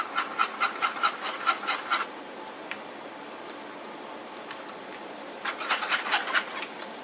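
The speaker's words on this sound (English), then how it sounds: "And give it a good whisk." Whisk beating a quiche mixture of eggs and chopped broccoli in a bowl, quick rhythmic scraping strokes in two bursts separated by a pause, close and moderately quiet.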